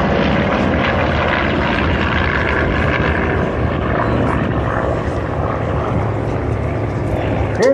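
World War II warplanes, including a Grumman Wildcat, flying over at the Oshkosh airshow: a loud sustained propeller-engine drone with shifting pitch, rich rumbling tones and crowd noise beneath.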